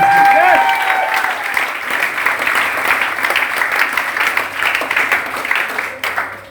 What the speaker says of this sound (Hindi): एक बार शानदार तालियां हो जाए ड्यूसॉप के लिए।